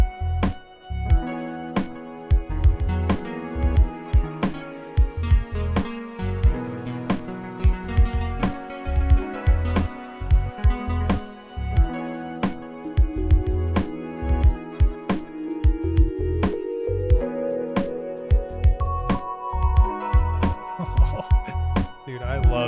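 Ethereal bell-like synth tones from a Dirtywave M8 tracker, ringing notes with sustained shimmering tails over a steady rhythmic beat, with a rising melodic line near the end, played alone without talk.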